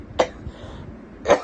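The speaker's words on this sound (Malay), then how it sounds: "batuk sikit" Two short, sharp coughs from a man during a religious lecture, about a second apart, close and clear against quiet room tone.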